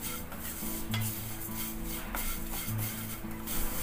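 Thick vermicelli is roasted on a low flame while a utensil scrapes and stirs it against the pan in repeated strokes, with a light sizzle underneath and no voices.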